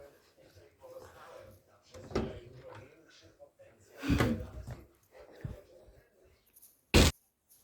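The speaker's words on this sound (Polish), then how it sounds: "Zamknęłam drzwi." A door is shut at home during cleaning, a sharp short thud near the end after stretches of close talking and scattered handling knocks.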